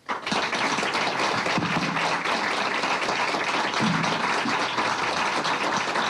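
Steady, dense applause from a large crowd honoring two female judges and a male judge, sustained clapping at even loudness throughout with no speech.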